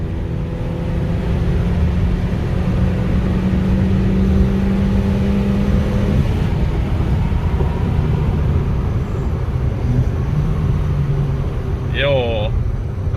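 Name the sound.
1.4 Opel Corsa revving with stainless steel free-flow exhaust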